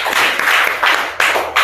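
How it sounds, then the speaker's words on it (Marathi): A person claps their hands nearby, giving a few loud, sharp claps spaced irregularly over a second or so. "टाळ्या वाजवत आहे"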